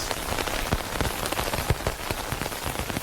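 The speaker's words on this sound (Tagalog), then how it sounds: "Grabe yung tunog ng ulan." Steady rain pours over a campsite during a solo overnight camping trip, a dense continuous hiss of drops pattering on surfaces with scattered louder splats, close and even throughout with no talking.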